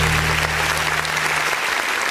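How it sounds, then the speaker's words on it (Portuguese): Congregation clapping during a Portuguese-language church service, a dense, steady wash of hands filling the room over a low sustained musical drone that fades partway through. "E as palmas exaltam o nome do Senhor"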